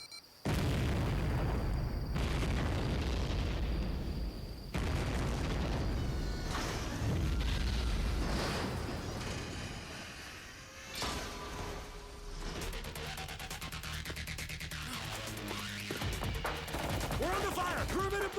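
Gunfire and explosions during an attack, with heavy booms and bursts of rapid shots close by, loud and sustained, then continuing action noise with a musical score.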